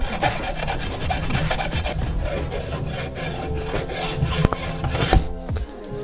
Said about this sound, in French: En plus ça c'est une scie à métaux.